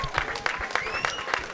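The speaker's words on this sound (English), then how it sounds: "big round of applause to both fighters before we go to the official decision" An audience at a boxing event claps for both fighters, a brief burst of applause with sharp, rhythmic claps heard at moderate volume.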